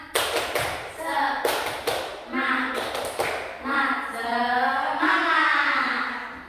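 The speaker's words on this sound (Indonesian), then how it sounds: "Coba, tepuk semangat." Classroom students doing a rhythmic spirit clap, sharp hand claps in quick patterned bursts mixed with children chanting along in unison.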